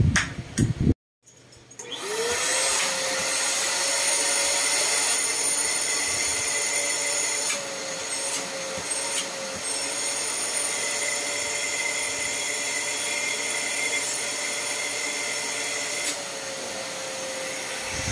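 A wet and dry vacuum cleaner starts with a click, then runs with a loud, steady, high-pitched whine and rush of suction that holds for the rest of the clip.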